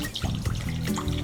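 Water poured from a container into a large mixing bowl on a scale while making sourdough sandwich bread, a steady close, continuous splashing stream lasting just over a second.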